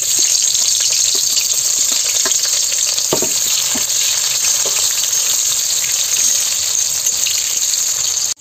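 Cumin seeds fry in hot oil with a loud, steady hiss and sizzle that continues unbroken, with a few soft scraping clicks from stirring scattered through it.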